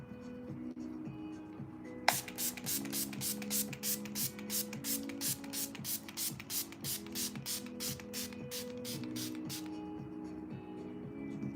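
A Charlotte Tilbury setting spray is misted over a face in a rapid series of about twenty short, crisp pumped hisses in a steady rhythm, over faint background music.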